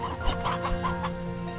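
Old chickens clucking in the Slime Rancher 2 video game, a few soft, close clucks repeating in quick succession over steady game music, no talking.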